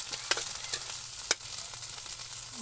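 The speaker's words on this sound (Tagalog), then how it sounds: "Haluin lang ng mabuti para ma-absorb niya lang yung asim ng suka." Eggplant and other ingredients are stirred in a pan with vinegar, giving a steady close sizzle with a few sharp scrapes and clicks of the spoon against the pan.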